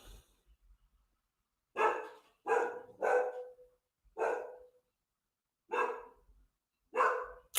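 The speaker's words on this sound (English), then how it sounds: "I wonder why the dog's barking right now." A dog barking at night around 2 a.m., six separate loud, close barks spaced irregularly over quiet background.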